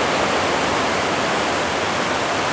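Surf rolls in continuously on the shore at Myrtle Beach, a dense, even hiss of ocean waves heard up close without any talking.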